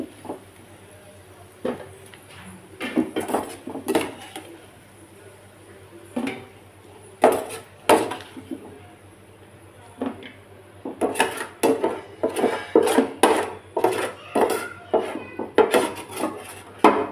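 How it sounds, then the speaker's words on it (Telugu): Fried chicken scooped from a pan into a bowl, with a spoon scraping and clinking against metal in irregular bursts that thicken toward the end, close and moderately loud. "స్టవ్ ఆఫ్ చేసుకొని దీన్ని ఒక గిన్నెలోకి తీసుకుందామండి"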